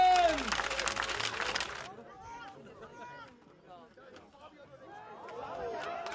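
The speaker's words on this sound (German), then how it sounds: "Applaus für die Defense!" A crowd at an American football game cheers and claps loudly for about two seconds, then the noise drops to a murmuring hubbub before the applause swells again near the end.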